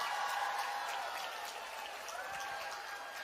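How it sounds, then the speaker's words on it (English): Applause from a large women's audience fills the room steadily, a dense wash of many hands that holds at an even level throughout. "give yourselves a round of applause"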